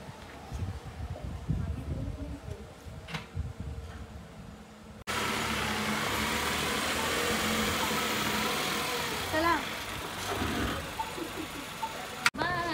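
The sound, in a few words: car being reversed, engine running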